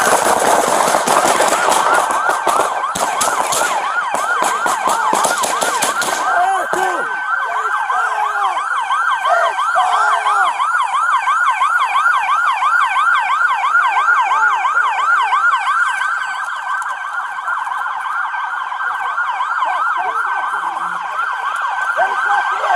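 Several police sirens wail together at a Cranston police scene, loud and close, their rising and falling tones overlapping; bursts of harsh noise and shouting voices come first, then the sirens carry on steadily.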